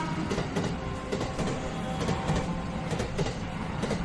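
A steady, dense rumble of a passing train, a ghost train effect, with continuous rattling and clatter that stays loud and even throughout, without pauses.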